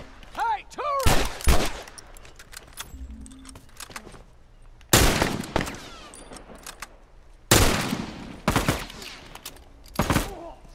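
Turret machine gun fire in Uncharted 4 comes as loud sustained bursts of rapid shots among game sound effects, with a voice talking briefly between the bursts.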